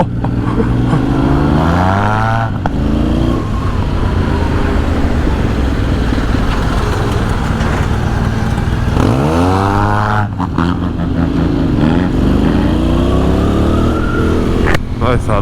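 Custom Honda X-ADV 750 scooter pulling away and accelerating, a loud near engine note climbing through revs, dropping and climbing again, with a rider's voice in between.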